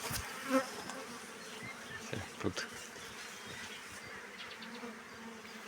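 A honeybee swarm hums around a bucket it is clinging to, a steady dense buzz close to the microphone with a brief spoken word over it.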